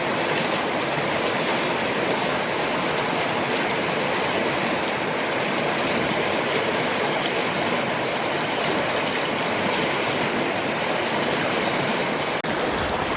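High, fast-flowing river water rushes in a loud, continuous broadband roar, close by and unbroken, with no voices over it.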